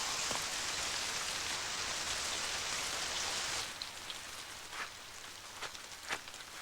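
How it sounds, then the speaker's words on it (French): Rain falls in an animated cartoon as a dense, even hiss that holds steady, then thins to a softer patter with scattered distinct drops toward the end. "Voilà qu'il pleut maintenant."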